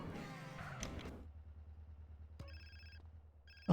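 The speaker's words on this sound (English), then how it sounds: "phone call. Maybe I should answer it before I leave." A phone rings in GTA San Andreas, two short electronic ring bursts after a fading rumble, fairly faint against a low background hum.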